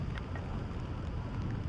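Heavy rain pours steadily as a broadband wash with low rumble and wind buffeting the microphone, continuous and fairly close with no talk.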